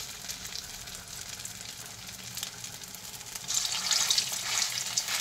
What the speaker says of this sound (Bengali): এই যে দেখো বড়ার এক পিঠ কিন্তু ভাজা হয়ে গেছে।